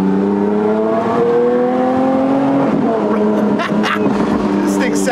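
Lamborghini Aventador S Roadster engine revs loud and close with rising tonal whine, then settles into a rougher growl with bursts of noise, while a voice talks over it.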